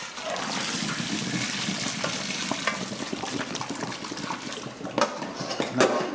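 Cooked pasta tipped from a pot into a colander, giving a steady close rush of pouring water and steam with a few clattering knocks near the end.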